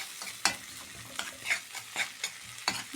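Garlic and onion are mashed and stirred in a hot pan, with several sharp scraping strokes against a low, steady sizzle of frying, close and moderately quiet, no voices.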